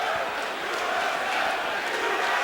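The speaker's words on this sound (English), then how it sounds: "And the crowd here in Mississippi chanting USA" A packed arena crowd at a UFC event in Mississippi roars and chants USA. The sound is a dense, continuous, loud wall of voices with no pauses.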